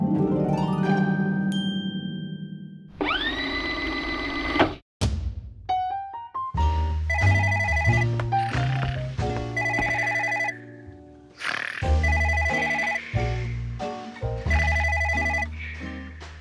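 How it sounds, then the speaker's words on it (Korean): A telephone bell rings under a loud music track with sound effects, its tone broken up by other musical cues and jingles with no voices. "야, 전화 받아라."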